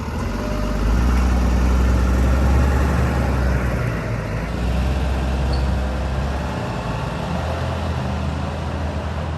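A tow truck carrying a broken-down car rumbles away with a steady, loud low engine drone and broadband road noise, continuous and unbroken, with no talking.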